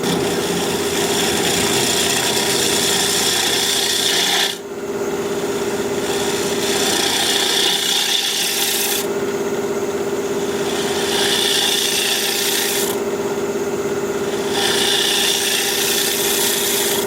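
A woodturning scraper cuts quilted maple spinning on a lathe, making a loud, continuous rasping scrape over the steady hum of the machine, broken by short pauses as the tool lifts off, with no talking.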